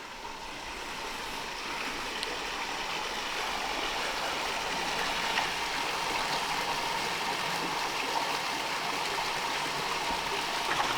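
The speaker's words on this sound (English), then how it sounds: "I hope you can hear me above the water just leaking through that lock gates there" Water trickles and rushes steadily through leaking lock gates on a restored canal lock with a noticeable drop, a continuous broadband wash holding fairly even in loudness throughout.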